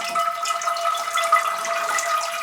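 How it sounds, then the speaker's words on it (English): Water runs steadily out of the bottom of a Sarracenia pitcher plant pot during repotting, a continuous close trickling splash with no talking. "Now the water that's coming out the bottom can be reused."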